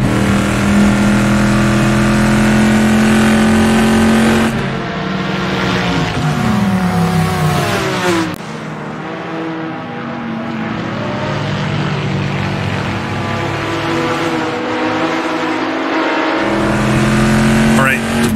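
A Chevrolet Corvette Stingray races in a video game, its loud engine roaring and revving continuously, dipping as it lifts off and then climbing back to full throttle, with no speech over it.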